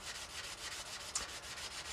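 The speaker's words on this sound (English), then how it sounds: "this form of sanding" Hand sanding a wooden slingshot carved from a tree fork, quick rhythmic back-and-forth rasping strokes, close and fairly soft, with a single small knock partway through.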